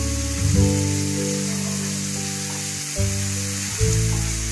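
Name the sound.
garlic frying in a pan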